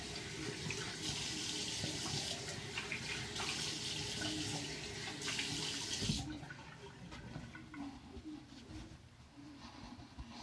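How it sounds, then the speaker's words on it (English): A razor is rinsed under a running sink tap during a live shave with a Teddy razor, a loud steady rush of water that changes tone as the razor passes through the stream, then a lower trickle. "Let me rinse off here."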